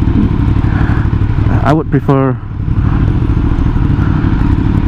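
Triumph Street Triple motorcycle engine idling and running during a test ride, a steady low rumble close by, with someone talking over it and a short voice burst in the middle.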